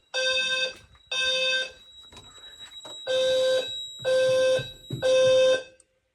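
Fire alarm system in a room going into full alarm after smoke testing with a fog machine: five loud, steady electronic horn blasts with a constant high tone, each about half a second to a second long, separated by short gaps.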